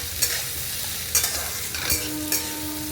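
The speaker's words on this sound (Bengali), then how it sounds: "তারপরে নেড়ে চেড়ে নিতে হবে।" Potatoes, onion and chopped garlic are stirred and fried in a pan for a Bengali prawn curry. A continuous sizzle is broken by several distinct scraping stirs of a spatula, close and without any voices.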